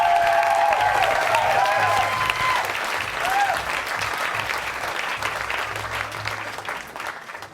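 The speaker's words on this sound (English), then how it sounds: "please give our subjects a huge round of applause." Loud, full audience applause at a stage hypnosis show, with some cheering and a faint whistle early on, holding steady before slowly tapering off toward the end.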